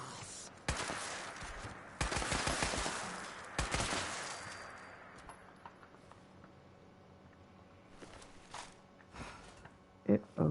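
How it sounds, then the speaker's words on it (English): Gunfire in Fallout 76 lands as several sharp bursts of shots spread across the stretch, loud at first and then fading to fainter pops, with a voice talking quietly underneath. "you shooting up the place"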